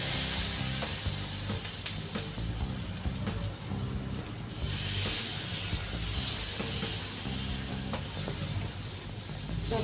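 Rava uttapam batter sizzles steadily in hot oil on a tava, a loud continuous crackle that swells briefly midway and carries on with no talk.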